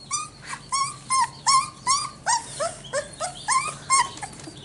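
A puppy whimpers in a run of about ten high, rising whines, evenly spaced and fairly close, against quiet background hiss.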